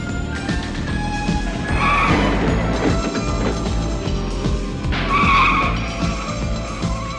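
Tires screech as a car skids under hard braking near a cliff edge, two rising squeals over a loud, rumbling engine roar, with no talk over it.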